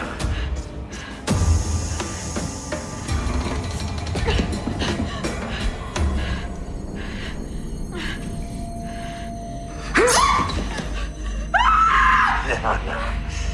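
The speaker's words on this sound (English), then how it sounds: "Don't waste all those beautiful screams." A woman screams in terror in a horror audio drama, with anguished cries over a tense, dark backdrop, and a sharp scream near the end. Long stretches stay quieter between the outbursts.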